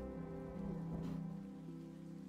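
Rain falls steadily in the video game Behind the Frame, a soft continuous patter over a gentle melodic music bed with sustained tones, no talking.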